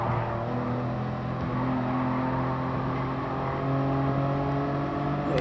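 A police car in Gran Turismo Sport drones along with a steady engine hum, holding an even pitch with slight swells in revs, close and continuous with no talk over it.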